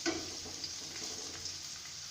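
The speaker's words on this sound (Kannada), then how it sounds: "ಈರುಳ್ಳಿ ಸ್ವಲ್ಪ ಕೆಂಪುಗೆ ಫ್ರೈ ಮಾಡ್ಕೊಳ್ಳಿ." Finely chopped onions frying in a pan for a paneer and green peas masala, making a continuous even sizzle with no voices over it.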